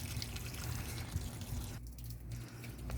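Water splashes and trickles steadily during an outdoor bath used to water garden plants, a soft continuous pour with a brief lull partway through, fairly quiet.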